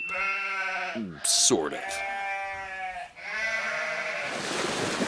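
Sheep bleat in a series of loud, wavering cries, one after another, with a brief spoken voice slipping in between them.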